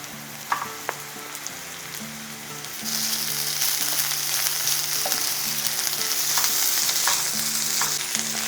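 Pumpkin pieces fry with browning onions in hot oil, a few utensil knocks at first, then the sizzle swells into a loud steady crackle with occasional stirring clatter and no talking.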